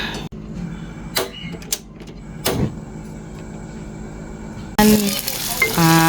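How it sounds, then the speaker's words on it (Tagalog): Garlic, ginger and onion sautéing in a pan for ginisang bagoong, heard as quiet sizzling with a few sharp clatters and scrapes, then a sudden louder burst of frying near the end. "Masyado ng brown yung bawang at saka yung luya. Yan, kaya nilagay ko na yung sibuyas."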